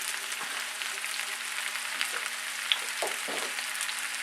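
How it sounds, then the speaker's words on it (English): Wild mushrooms stir-fry in a skillet with a steady, close hiss of frying, broken by a few soft scrapes and stirring knocks; no one speaks. "Stir fry these, it said, for 1 to 2 minutes."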